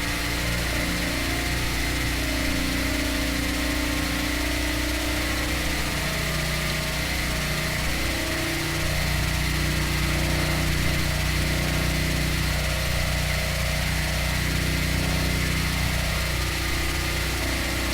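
A vehicle engine in the Stormworks game runs at full throttle, a loud, steady droning hum with layered tones and constant vibration that holds unbroken for the whole stretch.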